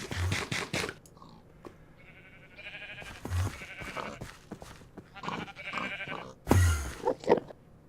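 Sheep bleating in a Minecraft-style crafting video game, several short bleats heard at intervals over game sounds and crunchy effects, moderately loud and close.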